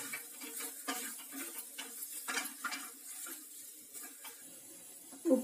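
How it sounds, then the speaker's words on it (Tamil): A spoon stirring samosa filling with garam masala, cumin and asafoetida in a pan, a soft, steady scraping and mixing with faint sizzling, close up and without talk. "இது எல்லாமே நல்லா கலந்து விட்டுக்கலாம்."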